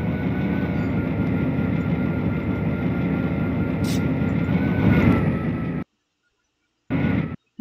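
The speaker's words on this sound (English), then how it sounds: "There's a train." Train running in the video game Trainz A New Era, a loud steady rumble and drone that holds for several seconds, then cuts out abruptly, with a brief burst returning near the end.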